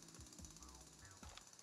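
Drilling from the Manic Miners game, a remake of Rock Raiders, heard as a steady mechanical jackhammer-like rattle that runs throughout with faint low thumps and game sound effects underneath.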